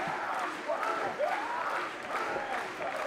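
A wrestling crowd applauds and murmurs at a strong-style pro wrestling match, steady clapping filling the arena while a commentator talks over it.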